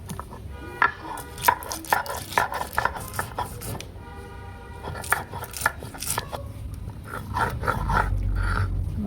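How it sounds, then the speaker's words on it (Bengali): Green chilli, mustard seeds and cumin being ground into a paste, likely on a stone grinder, with repeated scraping and knocking strokes in an irregular rhythm, close and moderately loud, no speech. "কাঁচা লঙ্কা সর্ষে জিরে মিহি করে আমি বেটে নেবো"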